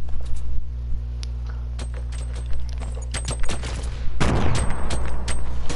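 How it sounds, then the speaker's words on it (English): Explosions and gunfire in an online multiplayer shooter game: a burst of rapid sharp bangs, then a louder, denser barrage of blasts and crackling toward the end, set over a steady low hum. "Who's throwing grenades?"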